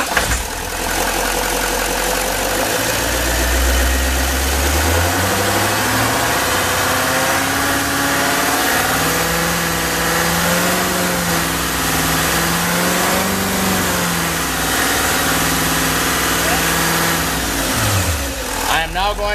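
A 2013 GMC engine turns over and catches, then is held at a steady raised speed of about 2500 RPM, a loud continuous drone with slight wavering pitch before dropping off near the end.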